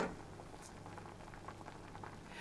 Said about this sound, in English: I like to put my potatoes straight into boiling water because it speeds up the cooking process